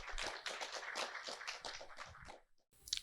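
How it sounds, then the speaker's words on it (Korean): An audience at a Korean education and AI forum applauds to welcome a speaker: dense, steady clapping for about two and a half seconds, then a brief quiet and a few scattered claps at the end. "큰 박수로 환영해 주시기 바랍니다"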